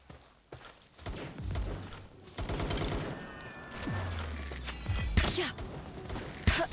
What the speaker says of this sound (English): there is a lot of creatures up here, so sounds like they got guns as well